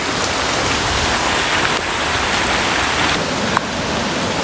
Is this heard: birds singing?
no